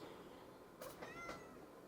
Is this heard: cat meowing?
yes